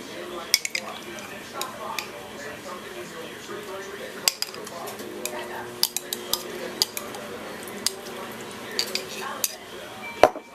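A metal knife clinks against a jar and scrapes while spreading jelly onto bread, with scattered sharp taps and clatters at close range over a quiet room, and a voice talking at times.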